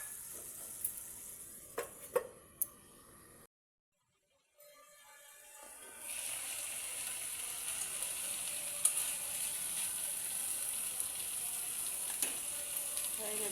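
Potato fries sizzle in a pan as they are stirred, with a few clinks of a utensil and a brief silent gap before a steady, bright frying hiss that continues throughout.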